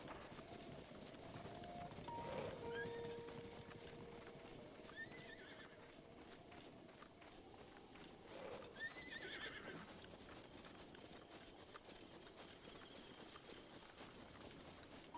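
In a Zelda game set in Hyrule, a horse whinnies several times and hooves clip-clop softly beneath, with game ambience and faint background sounds throughout.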